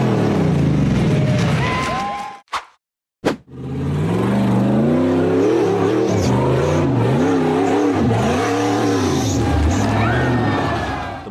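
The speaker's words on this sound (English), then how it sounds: "The white-framed buggy accelerated hard up a rugged red dirt hill through the forest." A white-framed off-road buggy engine revs hard and strains, rising and falling in pitch as it climbs a rugged red dirt hill through forest, briefly cutting out before roaring back loudly.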